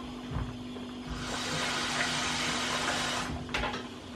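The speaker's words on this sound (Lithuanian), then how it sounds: "Dabar kepenėlės užpilam šaltų vandeniu." Cold water pours steadily into a bowl of chopped chicken livers in a kitchen, a continuous splashing rush that runs for several seconds, close and moderately loud, with no talking.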